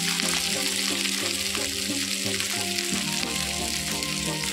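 Stuffing of mashed plantain paste with turmeric stirred as it fries in a pan, a loud, continuous sizzle and hiss close by with rhythmic scraping strokes of the stirring spoon repeating throughout.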